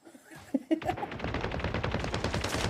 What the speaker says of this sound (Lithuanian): Čia šaudo.